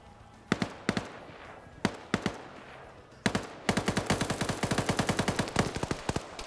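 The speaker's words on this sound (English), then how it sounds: "I can't hear you over the gunfire." Video game gunfire: single cracking shots and short bursts, then a long rapid automatic volley, sharp and loud against a quiet background.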